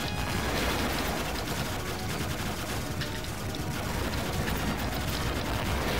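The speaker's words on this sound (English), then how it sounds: "Explosions. Death." Explosions and rapid gunfire from the arcade shooter Aero Fighters, a dense continuous barrage of blasts and shots filling the whole stretch at steady high loudness.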